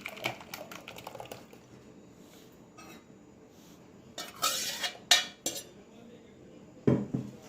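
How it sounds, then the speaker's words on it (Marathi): Metal utensils clink and scrape against a container in irregular bursts as blended banana milkshake paste is transferred into a pot, with louder scraping and taps midway, close up. "आता हे एका पातेल्यामध्ये आपल्याला काढून घ्यायचं आहे"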